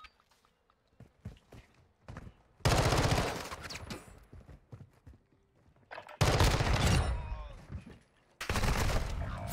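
Gunfire in Call of Duty: Modern Warfare II multiplayer, three loud bursts of rapid shots separated by quieter stretches of footsteps and movement.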